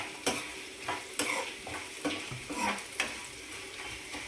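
Onions frying in tempering oil for gongura chutney, a steady hiss broken by repeated scraping stirs of a spoon in the pan at roughly one-second intervals, close and clear with no voices.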